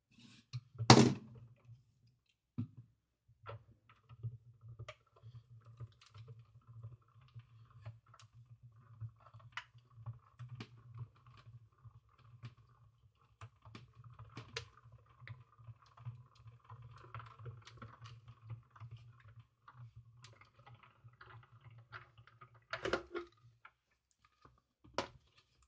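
Large manual die-cutting machine cranked through, a heavy thunk at the start then soft ticking and a faint low rumble as the handle turns, ending with another clunk, quiet with no talk.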